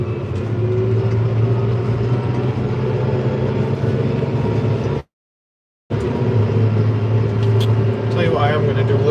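Steady mid-pitched drone of a farm vehicle engine driving in 4-wheel steer, loud and close, with a brief dropout midway and a voice talking over it.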